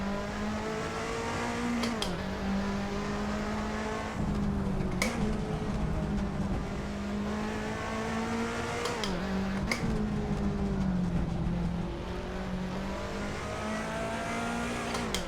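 Turbocharged car in the Assetto Corsa racing game on the Goodwood Festival of Speed hill climb, engine holding a loud continuous drone with repeated dips and climbs in pitch as gears change, punctuated by brief pops.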